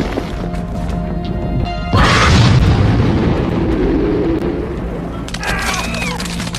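A bomb blast in a monster film bursts in with a heavy, loud boom about two seconds in, followed by rumbling debris and crackling that slowly fade, with sharp clattering sounds near the end.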